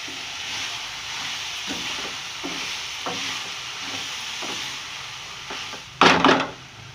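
Ketchup being stirred into macaroni in a hot pan, a steady frying hiss with repeated soft scraping strokes of a spoon and a louder clatter near the end, no talk.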